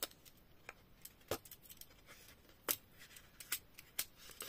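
Scissors snipping the corners of a paper card for a vintage scrapbooking craft, a series of short, crisp cuts at irregular intervals, fairly close and quiet, with no talking.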